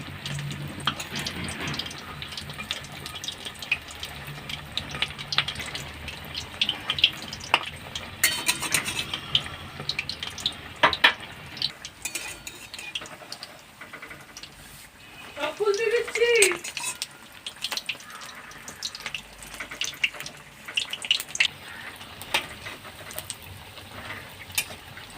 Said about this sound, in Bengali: আমার এই বেগনিগুলো ভাজা হয়ে গেছে।